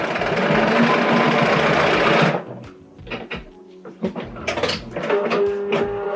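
A sewing machine stitches a quilt with a loud, steady mechanical whirring for about two seconds. It then stops, leaving softer clicks and rustling handling sounds.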